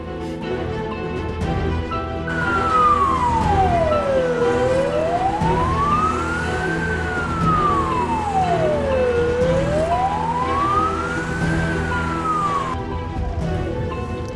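An ambulance siren wails, rising and falling in slow, steady sweeps, loud and continuous over the rumble of traffic.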